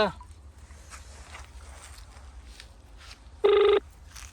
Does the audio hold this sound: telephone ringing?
yes